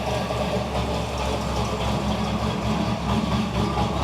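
A 1928 Bugatti replica fitted with a Chevy 350 V8 idles nearby, a steady, low, throaty rumble with an even pulse and no talk over it.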